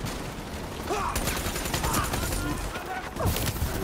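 Sustained rapid gunfire in the shooter game Call of Duty: Black Ops III rattles as a dense fusillade of overlapping shots, loud and continuous, with a few sharper bursts near the end.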